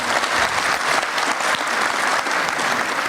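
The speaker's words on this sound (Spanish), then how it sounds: "Un aplauso." Sustained applause from an audience at a Spanish-language industry panel debate, a dense, steady wash of clapping that fills the whole stretch at close range with no pauses.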